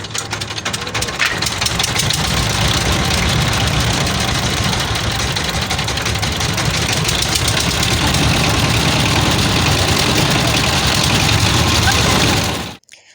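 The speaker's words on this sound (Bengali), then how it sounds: "নৌকা স্টার্ট দিল আমরা রওনা দিলাম" A river boat's motor running loud and close, a rough steady engine drone with rapid knocking pulses throughout, cutting off abruptly near the end.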